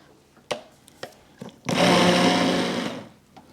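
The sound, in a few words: immersion blender blending apple butter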